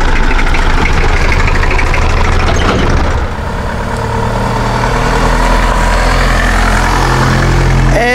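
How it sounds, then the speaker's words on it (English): Tractors and trucks idling in a queue at a grape weighing scale during the harvest in Rosoman, Macedonia, a loud, steady low engine drone that shifts slightly partway through. "all of these tractors and trucks are waiting before taking their produce to scale"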